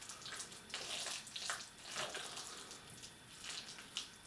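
Water dabbed by hand onto the inside walls of a metal ring mold while plating an avocado and crab tartare, soft wet trickling and light splashes in brief bursts, quiet and close.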